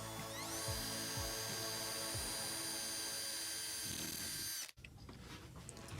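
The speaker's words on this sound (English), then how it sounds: "I drill it, and I just use a small pilot hole to drill" A power drill boring a small pilot hole into ceiling cladding inside an Iveco Daily camper van conversion, one steady high whine that spins up, runs for several seconds, then cuts off.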